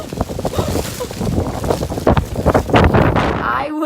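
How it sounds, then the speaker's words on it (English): Strong blizzard wind buffeting the microphone outdoors, loud rough gusts and roaring for a few seconds, with a person talking into the wind. "It is so windy."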